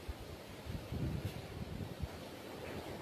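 Strong storm wind buffets the microphone outdoors in a town during heavy rain, a low, rumbling, gusty roar that swells and subsides, fairly quiet overall with no voices.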